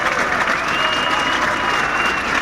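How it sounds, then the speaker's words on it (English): Crowd applause at Riverside Park Speedway for a NASCAR Modified Tour grand marshal, a dense, steady roar of clapping that stays loud and even throughout with a faint tonal whine above it. "Give him a nice round of applause."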